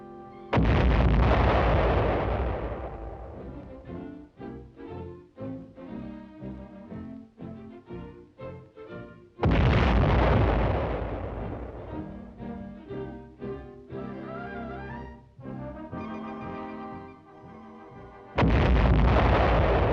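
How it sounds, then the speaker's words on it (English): A large artillery gun fires three times at roughly nine-second intervals. Each shot is a loud, close, broadband boom followed by a long rumbling decay and echoing aftermath. "And now the moment arrives."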